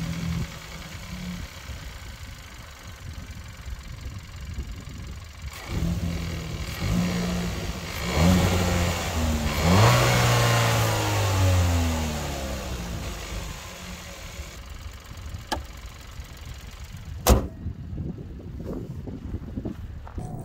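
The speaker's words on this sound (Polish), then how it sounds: "posłuchajmy silnika" A Kia ProCeed GT with a 1.6 T-GDI four-cylinder engine idles, then revs up and sweeps through a rising and falling roar before settling back to idle, loud and close, with a brief sharp knock near the end.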